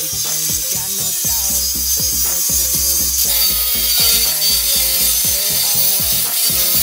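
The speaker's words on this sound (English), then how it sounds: "Your next tool is gonna be a cutoff wheel." A cutoff wheel slices through the outer stub axle of a Datsun 240Z during a dual-caliper install, giving a loud, continuous abrasive grinding whine with shifting pitch, close up and without talk.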